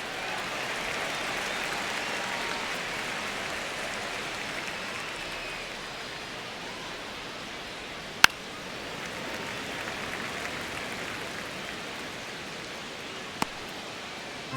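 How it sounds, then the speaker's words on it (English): Stadium crowd ambience at Dodger Stadium in the MLB The Show 26 baseball video game, a steady broad wash of distant crowd murmur through the whole stretch, with two sharp brief clicks partway through. "Just underway, crowd getting settled here at Dodger Stadium."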